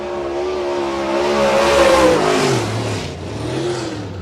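A dirt late model race car engine on a qualifying lap at Cedar County Speedway, revving loudly and rising in pitch through a single hard run, alone and close.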